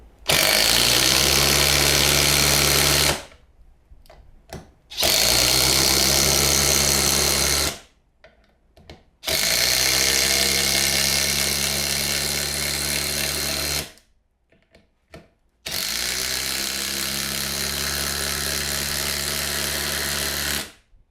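A Dewalt DCF850 compact impact driver fitted with a 13 mm hex socket drives screws in four loud, rapid hammering bursts of about three seconds each, separated by short pauses, with no talking.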